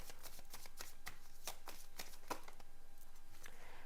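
A tarot deck is shuffled close by in a rapid, even flutter of cards, followed by a card being drawn, with no talking.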